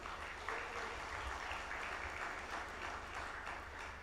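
An audience at a conference session in Zanzibar applauds, a soft, steady wash of clapping from a distant hall that holds evenly for a few seconds with no voices.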